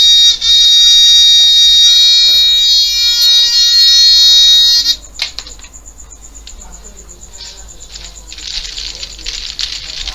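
A small electric buzzer for a water tank overflow alarm, wired up by its red and black leads for testing, sounds a loud, steady, shrill tone for about five seconds, then cuts off, leaving faint background noise.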